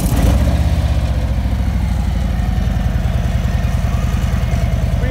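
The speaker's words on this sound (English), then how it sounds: "Great sound of motorcycle." A 2018 Street Glide Special motorcycle with Screaming Eagle slip-on exhaust idles close by with a deep, even, rapid thumping pulse, steady and fairly loud, with no talking over it.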